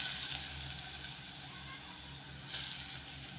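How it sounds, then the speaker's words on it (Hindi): Sweet potato frying in melted ghee in a pan for sweet potato kheer, a soft continuous sizzle with a faint low rumble underneath, quiet and steady. "अब इसमें जो शकरकंद है ये हम डाल लेते हैं।"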